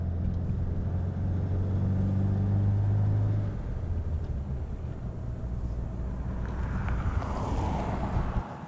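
Old Citroën Traction car driving, a steady engine drone that drops after a few seconds into a rushing road and wind noise, heard from inside the cabin with no talking.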